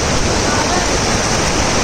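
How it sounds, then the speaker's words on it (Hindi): Cold Yamuna river water rushing and gurgling near its source at Yamunotri, a steady, dense, close wash of flowing water that holds evenly throughout without pause. "यमुनोत्री यहाँ बगल से कल कल करती हुई"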